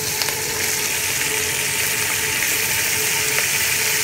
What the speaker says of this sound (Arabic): ننزل السمك ونحمسه شويه